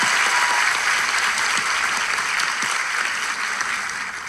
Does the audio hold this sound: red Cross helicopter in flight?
no